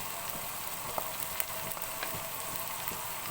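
Peas, carrots and chopped capsicum sauté in a pan for vegetable pulao, giving a steady, moderately quiet sizzling hiss throughout with a few faint stirring ticks and no voices.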